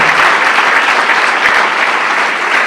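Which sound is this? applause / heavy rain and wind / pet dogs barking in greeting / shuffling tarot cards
applause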